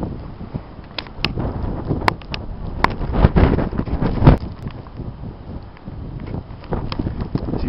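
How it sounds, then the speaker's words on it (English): Strong wind during a heavy blizzard buffets the microphone in gusty, rumbling surges while standing in the middle of a road, with louder swells in the middle and no talking. "See the wind blowing."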